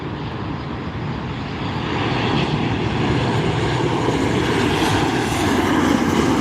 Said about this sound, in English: This is the Southwest 737-800 coming from Houston